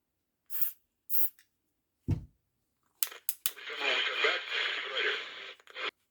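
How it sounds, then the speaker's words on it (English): Contact cleaner sprayed into the potentiometers of a vintage Radio Shack device, a steady hissing burst lasting about three seconds, close and fairly loud, following a few short clicks and taps. "we're going to just spray right into the pots here."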